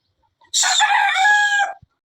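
A single loud hen squawk during a fight on a chicken farm, harsh and drawn out for just over a second, close by with no talk.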